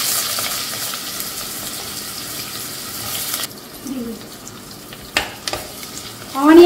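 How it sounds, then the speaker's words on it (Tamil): Sliced onions frying with whole spices in a pan for corn pulao, a steady soft sizzle with brief stirring scrapes; the hiss drops partway through and a few clinks and light knocks of the spoon follow. "ஆனியன் நல்லா கோல்டன் ப்ரௌனாக வர வரைக்கும் நல்லா வதக்கி விடுங்க."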